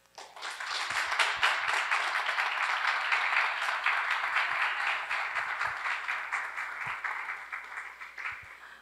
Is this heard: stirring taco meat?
no